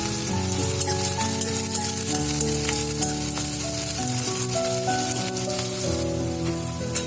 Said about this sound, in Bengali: ওর মধ্যে পেঁয়াজ কুচি দিয়েছি, দিয়ে একটু লাল লাল করে ভাজছি